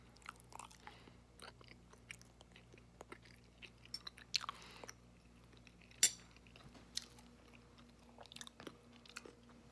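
Someone chews trailer park pizza with a burnt bottom, giving scattered crunchy bites and mouth sounds at close range, with occasional faint clinks, and no talking.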